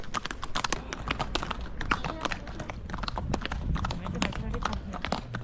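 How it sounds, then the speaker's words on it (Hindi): Horse hooves clip-clopping in a steady rapid rhythm during a ride at Naldehra near Shimla, close and fairly loud, with people talking over them throughout. "साउंड आ रही घोड़ों की।"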